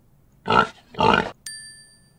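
A pig grunting, two short loud oinks in quick succession, followed by a bright chime-like electronic tone from a children's learning game, with no talking.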